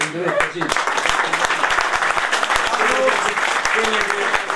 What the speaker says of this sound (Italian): diamo la parola che accogliamo con un applauso